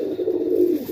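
Highflyer tippler pigeons coo in a steady, low, continuous murmur that stays close and fairly loud for about a second, with no talking.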